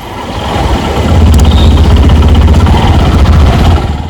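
A motorcycle engine runs steadily at a service center, a loud, low, continuous rumble that swells in the first second, holds level, then eases slightly at the end, with no talk over it.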